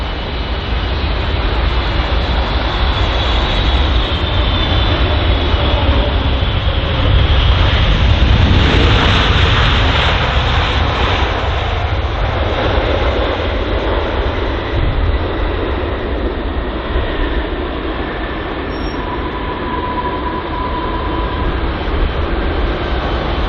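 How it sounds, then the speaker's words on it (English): A Turkish Airlines Boeing 777 arrives at London Heathrow, its engines a steady, loud roar with a broad rushing hiss that swells mid-pass and slowly tapers, with a faint tonal whine; no voices. "So the Turkish Airways Boeing 777 there, just arriving at London"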